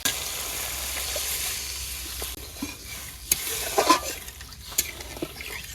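Water splashed into frying spices in a village kitchen pan, a hiss that eases into lower bubbling sizzle, dotted with a few scrapes and clinks of a spoon.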